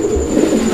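A male Koka pigeon gives a short, fairly deep coo, close and loud, with a thin steady whine running behind it.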